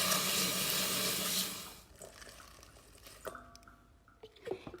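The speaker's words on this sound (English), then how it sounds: "I'm taking some spinach and some kale, and then I'm going to just wash them thoroughly and make sure that they're nice and clean." A kitchen tap runs loudly over spinach and kale as they are washed, then the flow stops and a few quiet drips and clinks follow.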